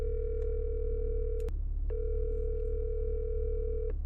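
A phone call ringing unanswered: two steady electronic ring tones, the first about one and a half seconds and the second about two seconds, separated by a short gap over a low constant hum.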